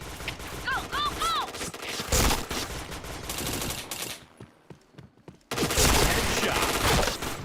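Gunfire in the shooter game Point Blank, bursts of rapid automatic shots with a sharp loud volley, a brief lull, then another dense burst, with in-game voice effects early on.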